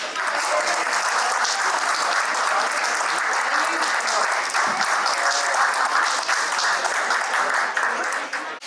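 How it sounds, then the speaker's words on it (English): Sustained, loud applause from a crowd at an alumni meet, a thick, even wall of clapping that holds steady for over eight seconds and tapers only at the very end. "Big round of applause, guys."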